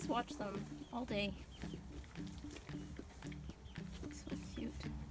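Pet chickens cluck steadily in a farmyard with pigs, a run of short pulsing clucks through the whole stretch while someone talks softly over them.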